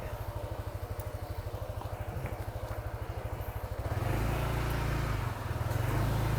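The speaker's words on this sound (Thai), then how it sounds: "โอเคนะเนี่ยเครื่องก็ ฟังกันไปเรียบร้อยแล้วครับสำหรับ N Max สีน้ำเงินคันนี้" A Yamaha Nmax 155cc scooter engine runs with a steady rapid pulsing thrum, then rises in pitch and loudness partway through as it revs or pulls away, close and alone with no voices.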